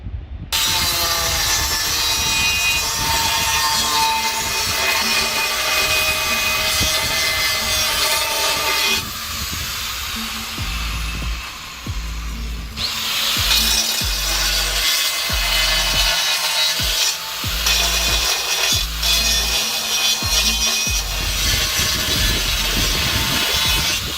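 Rotary tool fitted with a mounted stone grinding into wood to cut a 45-degree graft, a loud continuous abrasive whine and rasp that shifts in pitch and briefly drops around the middle, with no voices.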